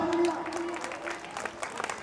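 Applause from a village Ramlila audience for the performers and organisers, dense and steady through the whole stretch, with a sustained tone and some voices underneath at the start.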